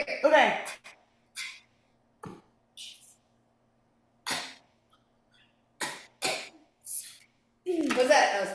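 Several short bursts of coughing and throat clearing from more than one person, spaced irregularly with near silence between them, loud and close.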